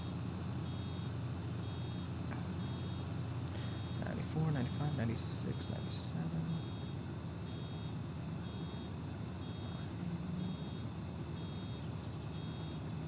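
A truck in Farming Simulator 2019 sounds a steady, evenly spaced reversing beep through the whole stretch, fairly faint under engine hum, while a man counts aloud over it.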